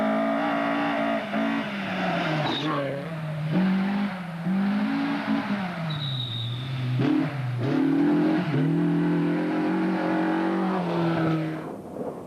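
Hannu Mikkola's rally car runs flat out on a London-Sydney Marathon stage, its engine loud and close, revving up and down through repeated gear changes and lifts for about twelve seconds with no voices.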